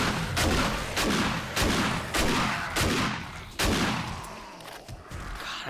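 Gunfire from a low-tier gun in 7 Days to Die cracks out in a rapid series of sharp, loud shots, about two per second, with a brief pause partway through and no talking over it.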